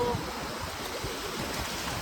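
Sea waves roll in at high tide on Tajpur beach, a constant broad wash of surf mixed with wind noise, with no talking.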